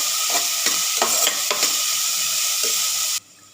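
Two medium onions, finely chopped, sizzle in hot oil with fennel seeds and are stirred in a pan, giving a steady close frying hiss with scraping strokes before it cuts off abruptly.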